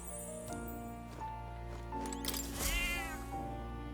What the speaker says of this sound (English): Here, kitty. Miss you, kitty.